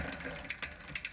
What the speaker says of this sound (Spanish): Ahora empezamos a escuchar cómo la cadena quiere montarse en el próximo piñón.